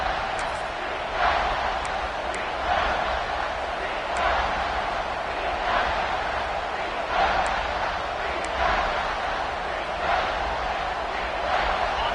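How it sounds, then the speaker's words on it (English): A home football stadium crowd roars steadily on third down to fire up the defense, the noise swelling in rhythmic surges while a commentator talks over it. "Crowd getting this defense whipped up on third down."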